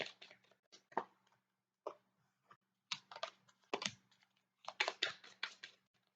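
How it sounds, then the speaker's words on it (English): Tarot cards being shuffled in a run of quick, soft papery riffles and taps in short bursts, close by and quiet, with pauses between. "a couple quick more shuffles"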